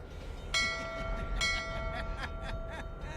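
Bell-like metallic ringing strikes with sustained tones over a low rumble, heard in a movie gunfight scene set among trains; several sharp clangs repeat through the scene without speech.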